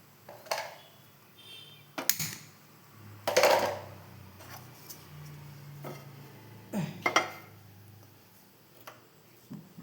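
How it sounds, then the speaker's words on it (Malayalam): A pan set onto a kitchen stove, heard as several scattered metallic clanks and knocks with quiet pauses between them. "ഇനി നമുക്ക് പാൻ എടുപ്പത്ത് വെക്കാം"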